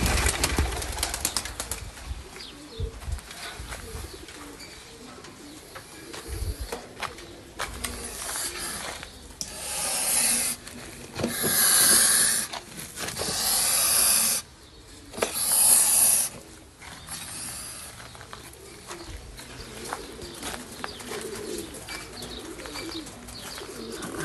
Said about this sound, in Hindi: कोई ख़ास नहीं कबूतर, एक कलदमा कबूतर